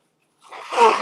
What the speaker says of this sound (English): Gosh, I hate sneezing and blowing my nose